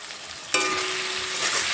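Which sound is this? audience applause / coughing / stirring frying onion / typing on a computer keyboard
stirring frying onion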